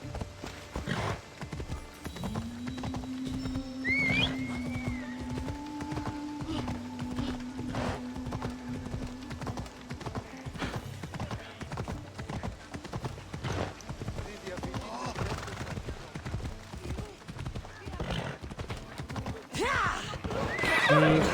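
Horses in Assassin's Creed Odyssey clip-clop steadily on hooves while one lets out a long, loud whinny, with an ongoing background of game ambience and other sounds throughout.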